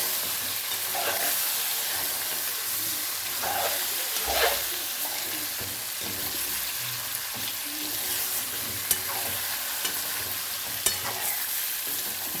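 Food frying in a pan is stirred with repeated scraping strokes that ring out over a steady, close sizzle, with no talking.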